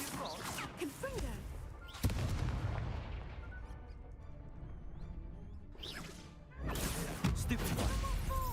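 A Confringo fire spell blast in Hogwarts Legacy gameplay, a sharp explosive boom that hits early and rumbles out, followed by further crackling spell impacts and game sound effects, with a voice speaking between.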